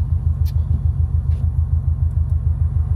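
Subaru STI all-wheel-drive car on all-season tires driving through snow, a steady loud low engine and road rumble with a pulsing rhythm, heard from inside the car, with a couple of faint ticks above.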